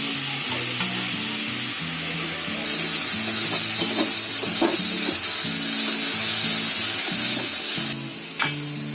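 Potatoes drop into a pan of frying mint masala for pudina rice, bursting into a loud, steady hiss of sizzling that holds for several seconds, with soft stirring scrapes and a brief clatter near the end.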